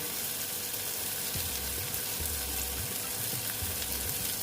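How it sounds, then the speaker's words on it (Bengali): Ridge gourd sizzles steadily as it fries in a pan, a constant close hiss with faint stirring and low scraping bumps underneath. "দেখো বন্ধুরা এটা মোটামুটি ভাজা হয়ে গেছে"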